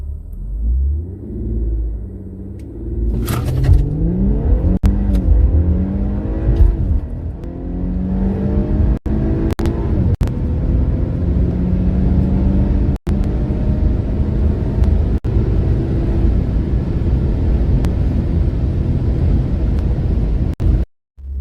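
An Infiniti Q50 with a drag pack holds at about 2,000–2,200 RPM on the brake, then launches hard on a drag run. The engine revs climb through several rising gear pulls, loud and close, with no talking.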